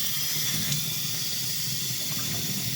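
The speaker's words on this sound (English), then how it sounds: "we're going to turn on this water and rinse her off" Tap water runs in a steady, even hiss while rinsing a K&N air filter, continuous and close, with no talking.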